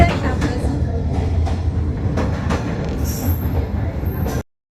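A train rumbles past at close range along Hanoi's narrow train street, a steady loud roll of wheels and carriages with brief high squeals near the end before it cuts off.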